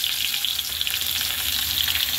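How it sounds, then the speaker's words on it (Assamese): Fish frying in oil in a wok (kerahi), with a steady, close, loud sizzle and crackle throughout and no talking. "মাছখিনি ধুনীয়াকৈ মই ফ্ৰাই কৰি ল'ম।"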